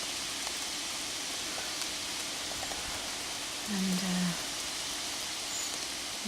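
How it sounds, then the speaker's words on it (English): Steady rain falls on a wet Sunday afternoon, a soft continuous hiss filling the space around the listener, with a brief low hum rising partway through and a single spoken word near the start. "Beautiful wet, lots of lovely rain."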